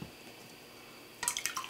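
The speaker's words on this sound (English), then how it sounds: "I spilled water." Water spilling onto a mat, a quiet patch of faint background hiss and then a short, close splash and patter of drops near the end.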